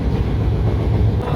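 Sundarban Express rolling toward the Padma Bridge, a brief, loud, even rumble of the moving train heard from on board.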